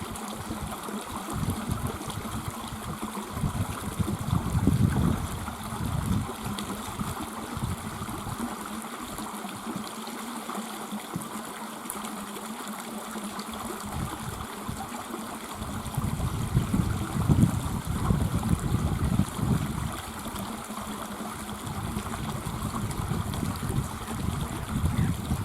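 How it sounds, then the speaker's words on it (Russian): Spring meltwater stream babbling through a village, a soft continuous trickle and gurgle heard from nearby, partly muddied by wind rumble on the microphone, with no talking. "Журчит ручей."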